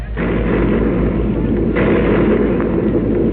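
Ships' guns boom in a salute, a dense, loud rumble of heavy blasts that fills the space with no pause and no voices over it. The sound is muffled and band-limited like an old radio broadcast.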